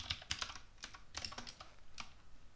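Close-up typing on a computer keyboard: irregular clusters of crisp key clicks, loud and near, with no talking.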